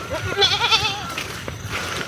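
Goats bleat repeatedly while grazing in a village forest, several wavering calls close by and fairly loud over soft outdoor background noise.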